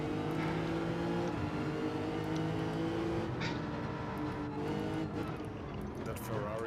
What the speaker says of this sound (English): That Ferrari is so quick off the line